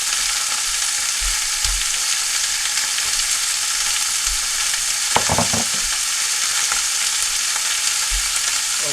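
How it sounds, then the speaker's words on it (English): Steak and scallops sizzling in a hot pan, a steady, close crackling hiss with occasional sharper pops and spatters, no voices. "Okay, so you hear that sizzling along?"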